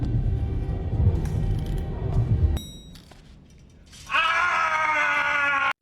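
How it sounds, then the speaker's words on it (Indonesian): A hospital patient lets out a sudden, sustained scream that rises and holds loudly after a stretch of low rumbling and a quieter pause. "ada pasien di sana yang tiba-tiba berteriak"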